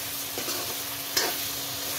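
Ground masala frying for a duck curry with pumpkin, a soft, even sizzle close by, broken by a couple of brief stirring scrapes.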